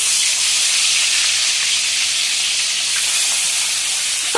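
Hot oil sizzles loudly in a pan, a dense, steady bright hiss that holds evenly throughout, close up and alone with no voices.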